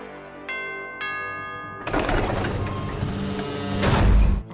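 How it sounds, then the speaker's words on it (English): A doorbell in The Owl House cartoon rings with two clear chime tones, followed by a loud mechanical clatter and creak like a door mechanism moving, close and alone. "When Luce rings the doorbell"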